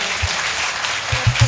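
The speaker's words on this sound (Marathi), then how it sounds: "सर्वांनी टाळी वाजवा." An audience applauds loudly, a dense continuous wash of many hands clapping close by, with a few low thumps toward the end.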